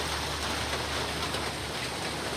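Steady rain falling during a downpour, a dense continuous patter of drops on surfaces, close and even throughout with no voices.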